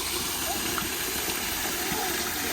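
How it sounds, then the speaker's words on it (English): A garden waterfall in the Japanese garden at Compton Acres gives a steady, broad hiss of falling water, close and even throughout, with no pauses. "we've got the waterfall at the end"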